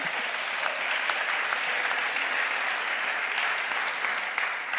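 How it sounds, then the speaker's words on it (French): Sustained audience applause fills the room at an awards evening celebrating corporate engagement, a dense, steady wash of many hands clapping at even loudness throughout, with no voices over it. "on peut les applaudir"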